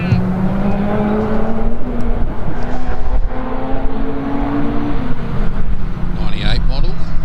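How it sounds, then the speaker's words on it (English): Green Subaru wagon racing at a lakeside hillclimb, the engine droning and climbing in pitch through gear changes as it passes, loud and close, with a commentator talking over it. "He's got the green Subaru wagon"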